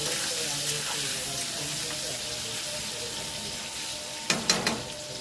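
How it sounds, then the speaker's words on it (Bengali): Potato pieces frying in oil with turmeric and salt, a continuous hiss and sizzle as they are stirred in the pan, with a few sharp clatters of the spatula near the end. "আলুগুলো লাল লাল করে ভালো করে ভেজে নেব"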